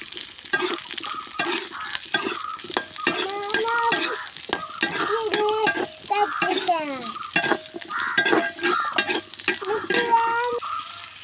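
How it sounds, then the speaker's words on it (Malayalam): Shallots and garlic stir-fried in a pan for a Kerala roasted chilli chammanthi, with a steady close sizzle and repeated scraping stir strokes throughout, no talking. "ചെറുള്ളി, വെളുത്തുള്ളി ഇട്ട് കൊടുക്കട്ടോ. ഇതൊന്ന് നമുക്ക് നല്ലോണം ഒന്ന് വാട്ടിയെടുക്കട്ടോ."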